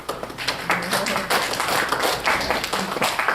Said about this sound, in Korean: 여러분도 안경을 만드신 분에게 박수 한번 쳐드려요.